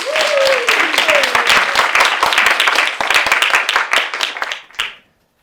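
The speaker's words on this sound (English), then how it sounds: "Round of applause, please." Audience applause welcoming Chris Cotton onstage at the SPEAKup Challenge, a loud, dense burst of clapping with a brief whoop, fading out abruptly near the end.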